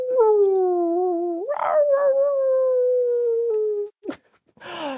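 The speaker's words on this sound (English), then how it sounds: "Rover's big jowls are due for some howls." A dog howls in one long, wavering, drawn-out note close up, broken by a brief yelp midway and ending in a short bark-like burst and a sharp click.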